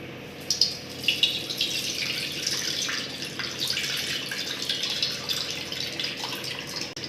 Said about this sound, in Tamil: ஒரு கடாயில் நான் நெல்லிக்காய் சைஸ் அளவுக்கு புளி ஊற வச்சேன்ல அதை கரைச்சி ஊற்றிக்கலாம்